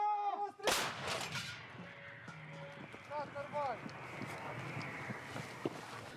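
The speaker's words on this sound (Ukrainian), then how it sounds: "Гармата!" A single sharp, loud artillery cannon blast cracks out near the start, followed by lingering rumbling echoes and scattered faint noises, near Bakhmut.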